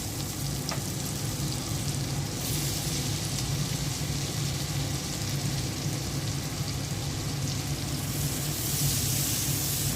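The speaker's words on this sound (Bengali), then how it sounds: "একটু ভেজে নেব।" Malta orange frying in a pan while cooking zorda, a continuous close sizzle that stays even and steady throughout, with a brief faint clink early on.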